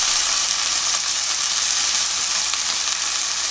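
Seasoned dried yellow croaker, coated in chili-flake seasoning, sizzles steadily as it reheats in a pan, giving a close, even, hissing frying sound with no break.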